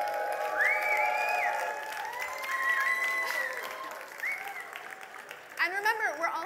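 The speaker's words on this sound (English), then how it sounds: "So everybody, can you give a big cheer for them over halfway through?" A live event crowd applauds and cheers together, a steady wash of clapping with whoops rising over it, and a few voices ring out near the end.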